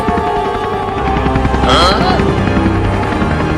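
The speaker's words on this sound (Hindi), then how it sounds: "अब हेलीकॉप्टर को ऊपर करो और डॉक्टर के पास चलो" A helicopter lifting off in a comedy sketch, heard as a continuous loud rotor and engine hum with a brief swelling whoosh partway through.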